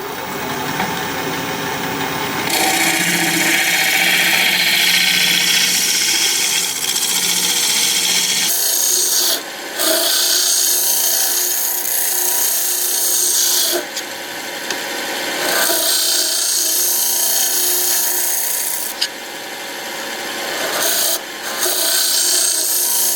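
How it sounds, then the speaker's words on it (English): Steady, continuous rasping of a scraper against hard end-grain mesquite on a lathe-turned bowl, loud and close, with brief pauses between long passes and no talking. "I'm going to put a fresh burr on my scraper and we'll scrape."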